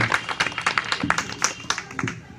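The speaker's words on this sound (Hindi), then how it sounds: "एक बार पुनः जोरदार तालियों से स्वागत करें हमारे पूरन सिंह कश्यप जी" Lively applause from an audience welcoming a guest onto the stage at a gathering: dense, irregular clapping at moderate loudness that runs steadily throughout, with no pause.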